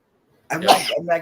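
One sharp human sneeze bursts in after brief silence and is followed right away by a short spoken phrase.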